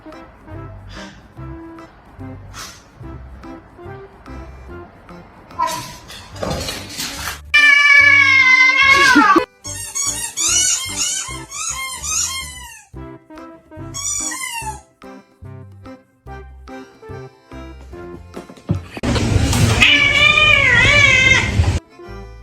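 A cat meows repeatedly in loud, drawn-out, wavering cries, some long and strained like a caterwaul, with short pauses between them and a burst of harsher noise near the end.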